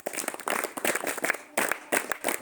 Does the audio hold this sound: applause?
yes